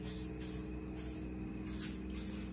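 Short hissing bursts of aerosol protective-coating spray on a chainsaw come in quick succession over a steady low hum in the background.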